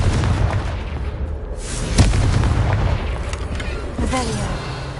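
Confringo fire-blast spell in the Hogwarts Legacy video game, a loud booming burst over a rumbling game soundscape, with a second blast near the end.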